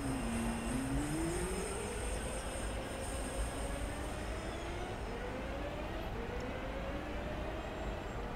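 Six-car train in Train Sim World 4, a steady rolling rumble with a motor whine that slowly climbs in pitch, constant and fairly quiet, with no speech.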